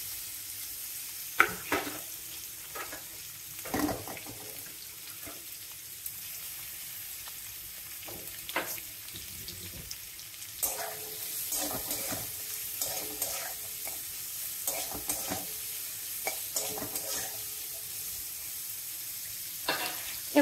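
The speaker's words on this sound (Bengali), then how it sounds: "কি দারুণ কুঁদরিটা ভাজা হয়েছে দেখেছেন?" Ivy gourd frying with poppy seeds in a pan sizzles steadily, broken by frequent scraping and clattering stirs from a spatula, close by and without any talk.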